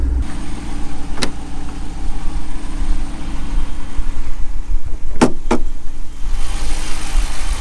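The 6.4-liter Hemi V8 of a Jeep Wrangler Rubicon 392 idles steadily with a deep, even rumble, broken by a few sharp clicks and knocks nearby.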